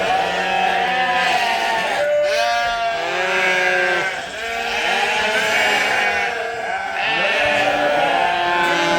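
Loud, crowded chorus of sheep bleating in a barn on a drought-hit sheep farm, many overlapping wavering calls filling the space continuously, close to the listener.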